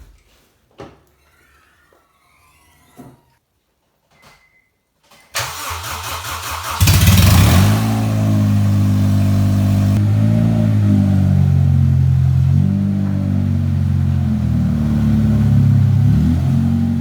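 A Suzuki SX4 is started in cold weather: a few scattered clicks and cranking sounds, then the engine catches, revs up sharply and settles into a loud, steady idle.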